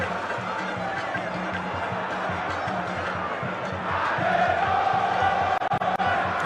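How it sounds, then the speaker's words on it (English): Football fans in a stadium at an Asante Kotoko match against Hearts of Oak roar and chant as a steady distant crowd wash that swells louder near the end, with rhythmic drumming underneath. "And the fans will keep on cheering both sides on."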